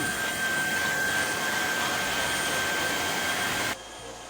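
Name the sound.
Tineco S6 Stretch cordless floor cleaner running on suction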